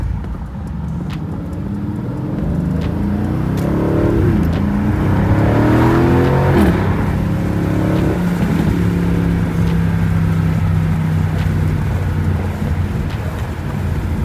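An Aston Martin V8 Vantage engine drones steadily from inside the car while driving, with a rising rev sweep in the middle and wind noise over the top, loud and continuous throughout.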